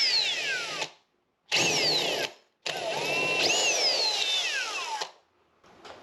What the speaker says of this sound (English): we're just going to drill a 5/16 hole.